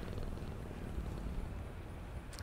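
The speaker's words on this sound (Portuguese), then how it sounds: "Dá uma festinha ao gatinho." A cat purring while being petted in the Five Nights at Freddy's: Into the Pit video game, a low, continuous, steady rumble heard alone at close range, fairly quiet.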